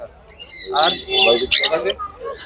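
Budgerigars and other pet birds at a bird market in Serampore give loud, close squawks and chirps in short overlapping bursts, with voices faintly behind them.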